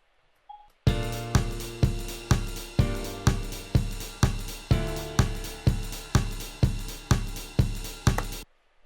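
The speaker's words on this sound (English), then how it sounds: "So I have this offbeat hi-hat kind of pattern." An evenly spaced electronic drum pattern programmed in Ableton Live, with offbeat hi-hats, plays about sixteen crisp, punchy hits at a steady rhythm, clean and alone before cutting off.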